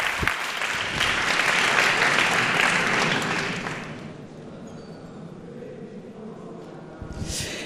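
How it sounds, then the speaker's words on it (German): Audience at a re:publica conference talk applauds a speaker, a dense wash of clapping that swells loudly for about three seconds, then thins to scattered claps and fades, with a brief burst of voices near the end. "Noch einmal kurz einen Beifall, weil sie hatte noch gar keinen."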